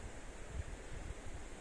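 Water of the Kilate river near Barranca del Tigre and Lagartos, Misantla, Veracruz, heard as a steady broadband rush with low rumbling surges, like flowing water or surf, with no voices.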